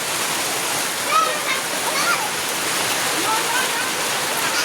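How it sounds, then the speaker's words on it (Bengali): Heavy rain pours down outdoors near rice paddy fields as a steady, dense roar of water with no breaks, and a voice can be heard faintly beneath the downpour. "দেখো বৃষ্টি পড়ছে, এই যে আমাদের ধানগুলো ওদিকে আছে, কত বৃষ্টি ঝমঝমা।"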